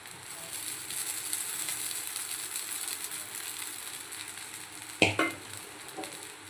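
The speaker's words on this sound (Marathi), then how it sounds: "आता यामध्ये आपण साबुदाणा टाकूया" Sabudana tapioca pearls fry and sizzle in a pan, a steady close hiss, with a sharp scraping stir and clatter near the end.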